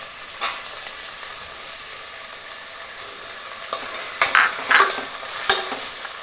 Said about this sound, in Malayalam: എണ്ണ ചൂടായി, അതിലേക്ക് നമ്മൾ ഈ സവാള ഇട്ടു.